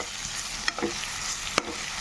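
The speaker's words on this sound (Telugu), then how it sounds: "ఇప్పుడు అంతా ఒకసారి కలుపుకుందాము" A spoon stirs a raw mango curry mixture in a pan with a soft sizzling bed, with a few sharp scraping clinks standing out against the gentle frying hiss.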